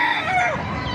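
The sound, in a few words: chickens, rooster crowing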